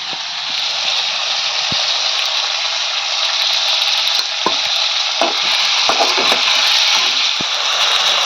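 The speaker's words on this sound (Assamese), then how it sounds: "বিলাহী পূৰা ভাজি আছোঁ একদম, গলি যাওক গলি" Tomatoes fry with salt in a hot pan, a continuous loud sizzle broken by scraping stirs and clacks of the spoon, with no talk.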